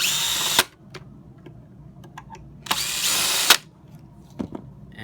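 A power drill fitted with a Phillips bit backs screws out of a hoverboard casing in two sustained whirring bursts, close and fairly loud, with a few small clicks and handling knocks between them.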